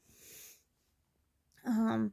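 A big, drawn-out yawn from a woman at home, a breathy exhale that opens into a voiced, wavering groan near the end, close and fairly quiet with a pause of silence between.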